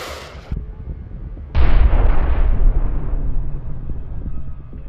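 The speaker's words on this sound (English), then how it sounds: "Ukrainian troops immediately counterattacked and hit the tank." A Russian tank struck by Ukrainian troops explodes after a sharp crack, a powerful close blast with a long rumbling, crackling roar that slowly fades over several seconds.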